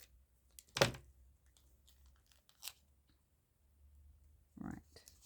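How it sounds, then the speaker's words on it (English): Packing tape is pulled and pressed down while a journal is made from scraps: a few short, close rips and sticky crackles spaced by stretches of near quiet. "sorry if the noise of the packing tape bugs you, but it's a little unavoidable"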